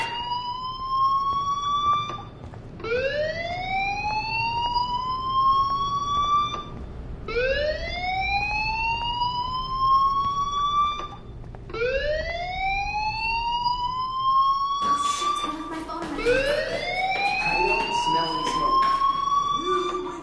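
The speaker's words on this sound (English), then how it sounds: "Hey, do you hear that fire alarm? That means you should be outside." A school fire alarm in the Life is Strange video game wails loudly in rising, repeating siren sweeps of about two and a half seconds each, with a voice talking over it toward the end.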